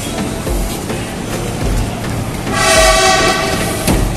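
A Commuterline electric train at Manggarai station in Jakarta, Indonesia, rumbles close by with heavy low-end thuds, then a loud, sustained horn blast rises for about a second and a half before fading under continuing track noise.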